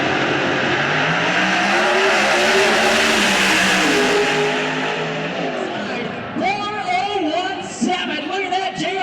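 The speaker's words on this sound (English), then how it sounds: "He really turned on the horsepower in the second half of the racetrack." Pro Stock drag cars roar down the track at a drag race, with a loud, sustained engine howl that rises and then fades, followed by a voice speaking over the fading sound.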